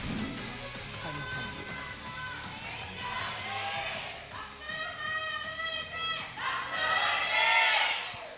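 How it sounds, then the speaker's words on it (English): Crowd of esports fans cheering for the ROX Tigers at an LCK League of Legends match against KT Rolster, high voices chanting and shouting in swelling waves that grow louder toward the end, with a commentator talking. "The cheer is louder for the ROX Tigers."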